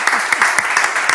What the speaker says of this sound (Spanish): un aplauso para Lucía